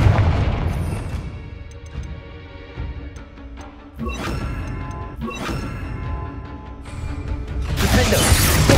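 Confringo blasting spell in the video game Hogwarts Legacy: loud crackling explosive bursts with shattering debris, several sharp blasts spaced across the stretch and a large roaring explosion swelling at the end.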